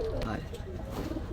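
Pigeons at a pigeon market in Gollamari, Khulna, including a pair of Indian Jiro pigeons, coo softly in low, rolling calls close by while someone talks over them.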